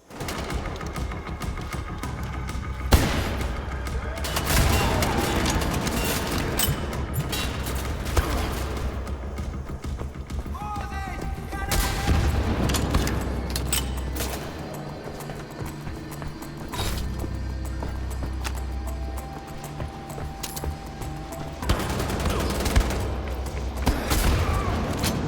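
Kampfpistol fire and explosions in a first-person shooter against Nazi enemies, with dense bursts of gunfire and booming blasts scattered across the stretch, loud and continuous, no talking.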